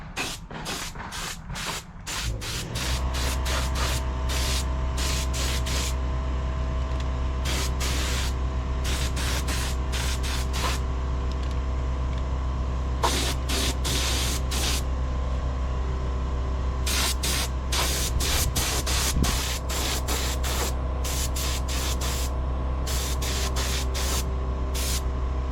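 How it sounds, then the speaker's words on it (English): A paint spray gun sprays metal etch primer onto a trike's metal parts, giving repeated bursts of loud hissing spray with short pauses, over a steady low hum of the compressor, close and without speech. "I'm not getting any overspray on me because it's blowing towards the camera."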